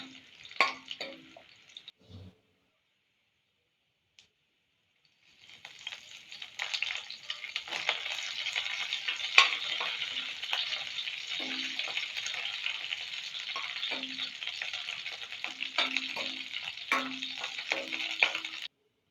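Three dried red chillies fry in hot oil for tomato thokku. After a few quiet seconds, a steady, moderate sizzle begins and carries on, with soft taps from stirring scattered through it.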